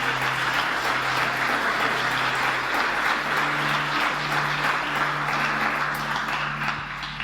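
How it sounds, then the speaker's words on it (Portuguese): Worship congregation in a church clapping together, a dense steady wash of many hands that runs without a break and stays fairly loud, with a low musical drone underneath and no voices standing out. "Glorifica Ele com palmas, me alegre para Jesus."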